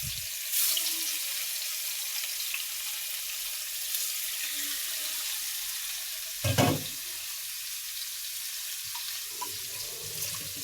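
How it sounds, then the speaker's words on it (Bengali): Fish frying in hot oil gives a steady, close sizzle throughout, with one brief louder burst of crackling partway through and no talking. "তেল গরম হয়ে গেছে, আমি মাছগুলো এখন দিয়ে দিচ্ছি। মাছগুলো সুন্দর করে তেলে ভেজে নেব।"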